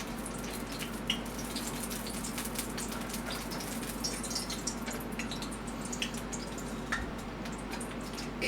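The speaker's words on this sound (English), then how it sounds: "I'll just get a little bit of water on my hand and just flick it in there." Water flicked into a hot oiled pan sets off light, scattered pops and crackles over a steady background hiss, faint and close, with no one talking.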